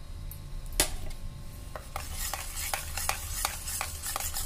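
A spoon stirs curd and ground chutney powder together in a bowl, soft repeated scraping and wet mixing strokes at close range, fairly quiet with no talking.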